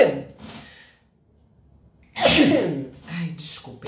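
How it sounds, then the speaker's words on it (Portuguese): A person with rhinitis sneezes loudly and close, a sudden burst after a quiet pause, following brief talk and a breath. "Vou espirrar, gente, peraí."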